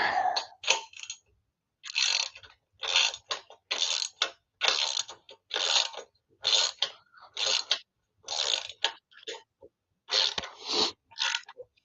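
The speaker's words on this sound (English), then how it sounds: "If I can keep my actual wrench and socket on it." A socket wrench ratchets in about a dozen short, rasping bursts, each roughly a second apart, close and fairly loud with brief gaps between. No one speaks over it.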